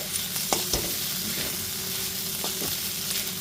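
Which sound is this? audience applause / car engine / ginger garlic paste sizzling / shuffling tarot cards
ginger garlic paste sizzling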